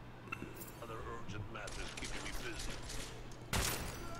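A revolver gunshot in the video game Deus Ex: Mankind Divided cracks out loudly near the end, following a stretch of quieter game sounds and clicks with a voice talking underneath.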